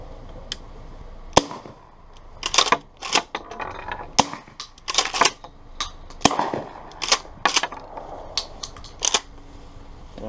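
A Hudson H9 pistol, bought new in 2016, is fired into dirt outdoors with subsonic and supersonic rounds. About a dozen sharp, loud shots come at irregular intervals with quieter mechanical clicks between them.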